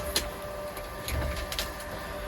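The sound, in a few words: printer printing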